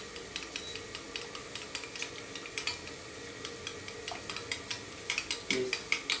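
Egg yolks being whisked with hot pasta cooking water in a bowl, a quick steady run of light metallic clicks and scrapes from the whisk, close and alone without talk.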